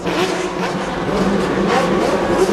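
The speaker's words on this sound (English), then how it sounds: "And so the V8 engines fire up" Several A1GP race cars' V8 engines firing up together on the Durban street-circuit grid, making a loud, rough, continuous rumble with uneven surges.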